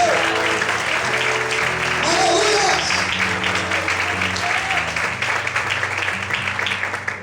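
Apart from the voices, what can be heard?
congregation applause in church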